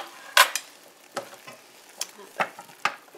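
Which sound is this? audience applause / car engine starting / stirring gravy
stirring gravy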